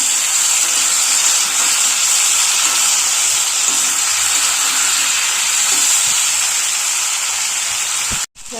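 Potatoes fried with salt and turmeric, with tomatoes added, crackle in hot oil as a loud, continuous sizzle that runs unbroken for about eight seconds before a brief dropout at the end.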